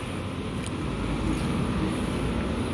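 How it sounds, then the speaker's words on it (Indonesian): Night traffic at a city bus terminal, with a continuous low engine rumble and road noise from buses idling or moving nearby, no talk heard. "Nah ini ada bus"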